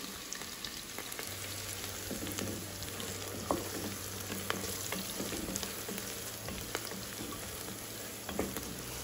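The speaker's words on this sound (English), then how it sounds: "you have to fry it like about 5 minutes until it is onions are, all the ginger garlic smell is gone and onions are like glassy" Onions, ginger and garlic fry in oil for vegetable pulav, a dense, even crackling sizzle that runs the whole time, with faint clicks of stirring and a low steady hum beneath.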